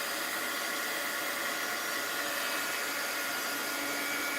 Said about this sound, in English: I thought I was losing this heat gun, but it came back. It's doing a good job.